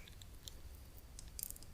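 Two pieces of Trident Splash gum are chewed close up, giving faint, soft mouth sounds that end in a quick run of crisp wet clicks.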